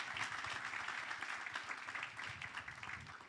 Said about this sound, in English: Let's give a round of applause, ladies and gentlemen.